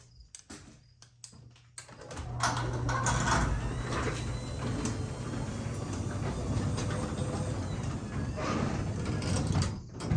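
An Excellerator 8500 garage door opener drives the door upward in a long, steady mechanical rumble, with scattered clicks before it starts and a hard slam as the cables pull it home at the end.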